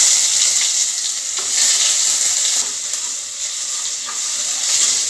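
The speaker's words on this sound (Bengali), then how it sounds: "দেখুন বন্ধুরা, পেঁয়াজটা ভাজা হয়েছে" Chopped onion and a couple of bay leaves fry in a generous amount of oil for a perch curry, a loud, steady, close sizzle with a constant hiss throughout.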